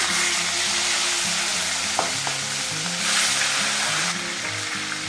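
A fish head sizzles in hot oil, a loud, steady crackling hiss lasting throughout, with a few faint clinks and utensil scrapes close by.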